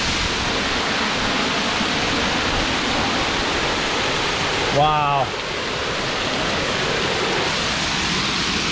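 The waterfall at Quaker Falls in Pennsylvania gives a constant, close, full roar of rushing water, with a brief exclamation from a person partway through.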